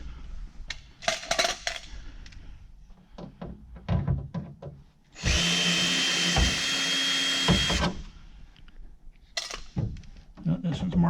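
A power drill backs screws out of the panels of a Mooney M20C aircraft, a loud sustained whir of about three seconds in the middle, with shorter clicks and clunks of screws and tools around it.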